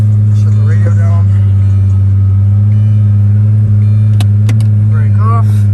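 The twin turbo engine of a 2008 Lamborghini Superleggera fitted with an Underground Racing 2R kit runs at a loud, steady idle with a deep, constant drone, while someone talks and a few clicks sound in the cabin.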